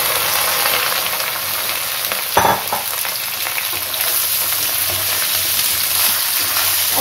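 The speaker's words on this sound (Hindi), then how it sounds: "गैस को अब हम बिल्कुल धीमी आंच पे कर देंगे और इसमें ये हींग और जीरा डाल देंगे। साथ ही हम इसमें ये भिंडी भी डाल देंगे।" Okra with asafoetida and cumin frying in hot oil over a low gas flame, a loud dense continuous sizzle close to the pan, with one brief stirring knock near the middle.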